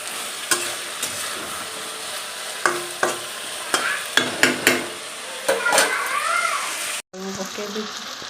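Onions frying in a pan in a home kitchen, a continuous close sizzle punctuated by sharp scrapes and knocks of a spatula stirring, with a voice talking over it.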